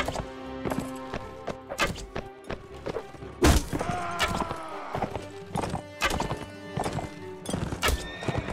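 Horse whinnying and hooves clip-clopping in the medieval combat game Mount & Blade: Warband, with irregular hoof thuds and a loud neigh mid-clip amid scattered battle thumps and clanks.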